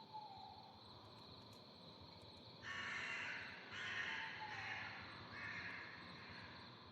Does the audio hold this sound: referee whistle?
no